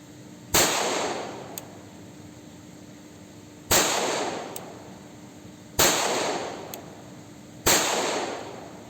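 Four sharp, loud .45 pistol shots ring out alone at spaced intervals, each a hard crack with a short ringing decay, plus a faint metallic click between some of them.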